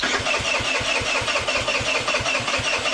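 A scooter engine running on ethanol-free fuel sputters and chugs in an even, rapid pulsing rhythm, close by and steady throughout with no voices.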